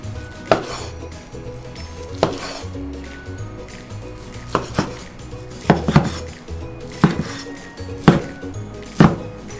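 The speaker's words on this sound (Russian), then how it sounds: "Стейк режется просто как масло." A knife slices through cooked steak on a wooden board, giving about eight crisp, close knocks at irregular intervals over a soft background hiss.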